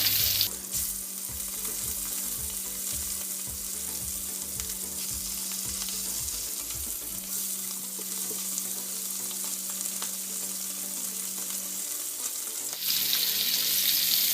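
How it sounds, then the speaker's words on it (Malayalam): Mackerel fish sizzles steadily in hot oil in a Kerala-style fish fry, a continuous close frying crackle with a brief clatter midway as the fish is turned over; no voices. "അപ്പം നമ്മുടെ മീനിൻ്റെ ഒരു സൈഡ് നന്നായിട്ട് വെന്തിട്ടുണ്ട് നമുക്കിതൊന്ന് മറച്ചിട്ട് കൊടുക്കാം"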